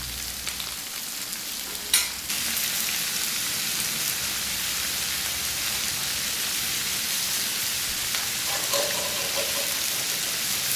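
About three-quarters of a kilo of green chillies frying in a pan for a village-style mutton meal, a steady close crackling sizzle with a couple of stirring knocks and no talk.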